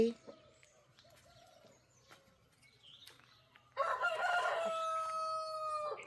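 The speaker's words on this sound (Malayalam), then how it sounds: "ഈ പൂവൻ കോഴി കൂട്ടിക്കിടന്ന് കൂവുന്ന കോഴിയും" Quiet background with faint sounds, then a rooster bursts into a long, loud crow that carries on to the end.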